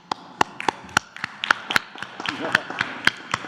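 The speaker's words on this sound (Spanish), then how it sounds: "Un aplauso." Scattered applause at a press conference, a few sparse, sharp claps tapping irregularly with a voice faintly underneath.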